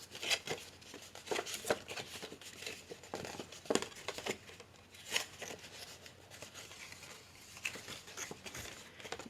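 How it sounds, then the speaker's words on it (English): Scored paper packaging being folded along its creases by hand, a close series of irregular crinkles, crisp snaps and rubbing rustles with quiet pauses between, no talking. "Fold on all of our scores."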